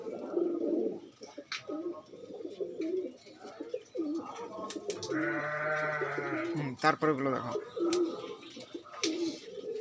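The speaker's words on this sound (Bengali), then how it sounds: "পায়রাগুলো হাতে নিয়ে দেখাচ্ছি, নিয়ে পায়রাগুলো ডাকছে" Pigeons coo and warble in close, repeated throaty bursts while held in hand, with someone talking over and between the calls.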